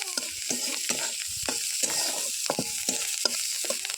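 Onion stalks frying in a pan as fish is being cooked: a continuous bright sizzle, broken by repeated scraping strokes of stirring at a steady rhythm, close and moderately loud.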